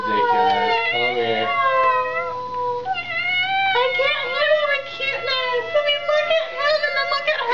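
A pet cat gives drawn-out, wavering meows close to the microphone, mixed in with people talking.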